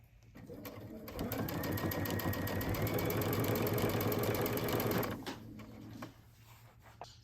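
A sewing machine stitches quilt binding at a 3.0 stitch length, whirring in a steady, even hum for about four seconds before stopping, with faint handling sounds around it.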